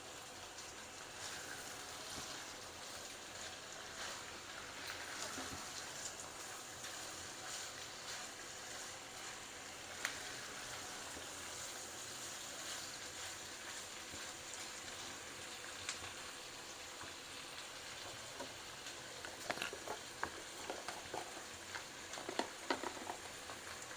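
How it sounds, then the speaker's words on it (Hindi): Mutton keema (mince) frying on a high flame, stirred in a pan: a continuous soft sizzle with occasional scraping stirs, fairly quiet and with no talking. "चूल्हा थोड़ा सा तेज़ कर लेंगे, थोड़ी सी भुनाई करेंगे कीमे के साथ।"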